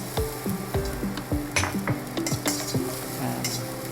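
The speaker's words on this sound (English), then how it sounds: "so we put some garlic and spring onion and green chili and red chili" Garlic, spring onion, and green and red chili stir-fried in a wok, a steady close sizzle broken by rhythmic metal spatula scrapes and clinks against the pan, no talking.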